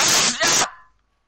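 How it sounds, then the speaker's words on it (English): A single loud, close sneeze bursts out in two forceful pulses, then quickly trails off into silence during online gameplay. "No, I just fucking sneezed."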